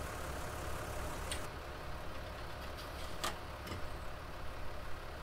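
A tractor engine runs steadily in the video game Farming Simulator 19, a continuous low idling drone at moderate level with a few brief clicks over it.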